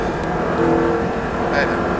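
An Audi R8 engine drones steadily on a race track, holding a continuous roar throughout with no clear rise in pitch, close and fairly loud.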